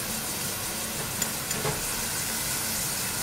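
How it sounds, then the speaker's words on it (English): Rice sears in a hot pan for cacio e pepe risotto, a constant loud sizzle and crackle with faint stirring scrapes, no voices. "So we just sear a little bit."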